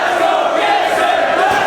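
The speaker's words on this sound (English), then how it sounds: "can you believe the energy level of this crowd?" A wrestling arena crowd roars and cheers continuously at high volume through a match, a dense sustained wall of voices with no single speaker standing out.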